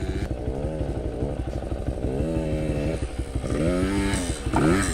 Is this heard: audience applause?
no